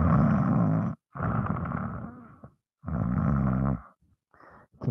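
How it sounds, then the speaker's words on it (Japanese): A sleeping pet snores loudly, with three long, rough, roaring breaths separated by short silences, heard close up and alone. "すげえいびきかいて寝てる。"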